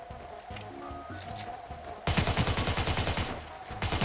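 Rapid automatic gunfire in the video game Rainbow Six, a loud, fast burst of evenly spaced shots breaking out midway and running to the end, preceded by quieter in-game sounds and a faint tone.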